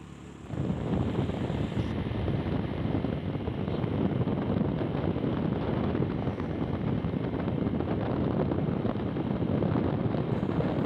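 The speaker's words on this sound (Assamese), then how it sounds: "বতাহৰ শব্দ বাপৰে বাপ" Strong wind gusts across an open main road, a steady loud roar of rushing air buffeting the microphone almost from the start and continuing without a break, with no talking.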